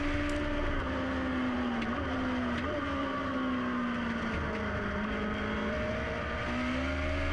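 A Legend race car engine drones steadily on track, its pitch dipping and rising through gear and throttle changes, with other cars faintly nearby and no voices.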